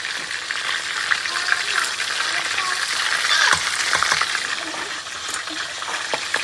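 Chicken sizzles and crackles steadily in a frying pan, a close, continuous hiss with occasional clinks and stirring scrapes, and no voice over it.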